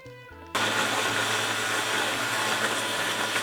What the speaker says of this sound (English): I'm going to blitz everything up